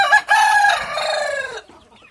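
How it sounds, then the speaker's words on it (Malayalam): A native (desi) rooster crows loudly close by among backyard egg-laying hens, one long drawn-out call, followed by a few faint clucks as it fades. "ഇത് നമ്മുടെ വീട്ടിൽ നമ്മൾ മുട്ടയ്ക്ക് വേണ്ടി നിർത്തിയിരിക്കുന്ന കോഴികളാണ്"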